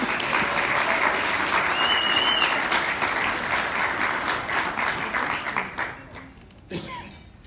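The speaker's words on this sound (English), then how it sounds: "If you could give them all a round of applause, please." Sustained audience applause at a 2018 hall of fame induction ceremony in a hall, dense steady clapping for several seconds that thins and fades toward the end.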